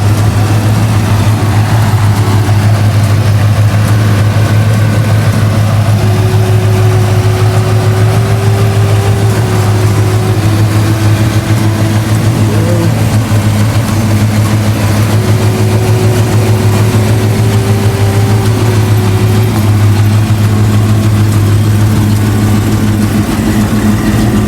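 A Fox Body Mustang with dual exhaust idles steadily, a loud, low, mellow rumble that runs without a break, with no voices.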